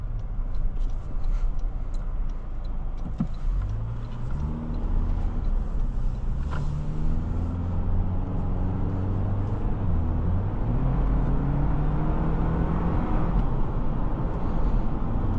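A 2024 Toyota Land Cruiser accelerating on the road, heard from inside the cabin as a steady engine drone rising in pitch through several gear shifts over continuous road noise.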